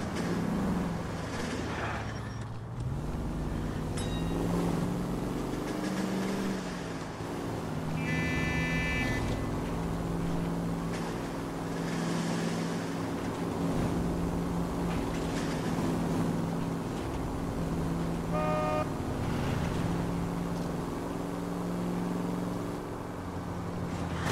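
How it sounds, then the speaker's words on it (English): A car in the video game L.A. Noire drives along with a steady engine drone, broken by occasional buzzing tones. "This car's a little bit less maneuverable."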